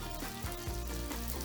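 A steady sizzle of an olive-oil-rich sauce frying in a hot pan over medium heat, continuous crackling and hissing with faint bubbling throughout.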